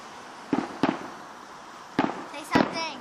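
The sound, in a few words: fireworks exploding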